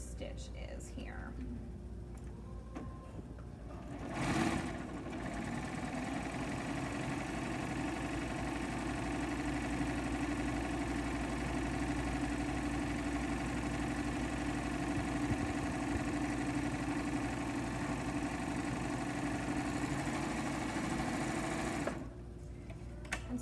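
A sewing machine stitches a rolled hem on fabric with thick green thread, running as a steady, close, continuous mechanical whir for most of the stretch, with brief handling noises at the start and end.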